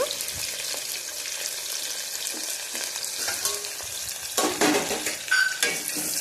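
Onion frying in hot oil with cumin and a bay leaf for palak pulao, a steady close sizzle with stirring clinks and scrapes of a spoon against the pan throughout.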